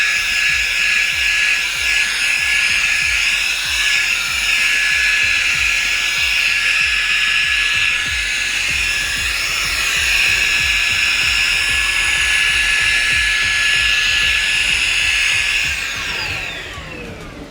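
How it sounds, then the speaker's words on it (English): A HOTO handheld cordless car vacuum cleaner runs on high mode, a steady loud high-pitched motor whine with a strong tonal hum and dense rattling of debris being sucked up, winding down at the end. "let's put it on the high mode. You can see it's going to scrape everything up."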